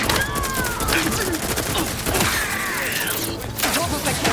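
A chaotic firefight in The Outer Worlds 2 on PC, with rapid overlapping shots, mechanical clatter and whooshing effects, loud and continuous throughout, with game voices mixed in.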